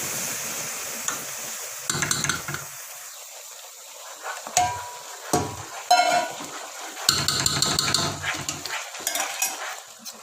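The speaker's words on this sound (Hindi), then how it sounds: "चम्मच को आपने अच्छे से हिलाना है" A spoon stirs besan into hot sugar syrup for besan barfi, making irregular scraping and clinking bursts against the pan with short quiet gaps between them.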